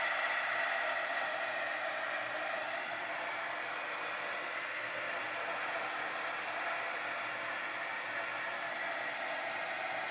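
A heat tool blows continuously while drying a craft project, producing an even, close airy hiss at steady loudness with no pauses or voices.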